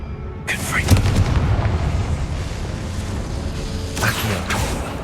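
Confringo blast spell explosions in Hogwarts Legacy, a heavy boom with a rumbling tail and a second blast near the end, and a voice speaking over the game.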